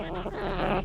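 Goblin skeletons in a video game giving up, a brief burst of harmonic, raspy creature-like vocal sound lasting under a second, close and fairly steady in level.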